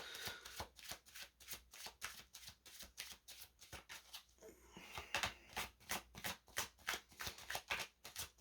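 A deck of cards is shuffled by hand in quick, rhythmic riffling bursts, close but quiet, with a brief pause midway before the shuffling resumes.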